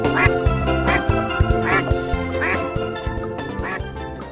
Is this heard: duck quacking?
yes